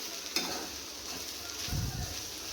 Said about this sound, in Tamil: இது நல்லா அப்படி வதக்கி விட்டுட்டு